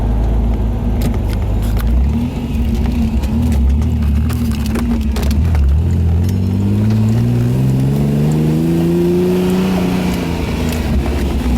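Ferrari Testarossa with a custom convertible conversion, its engine heard loud and close from inside as it pulls through the gears, revs climbing and dropping with each shift over steady road noise.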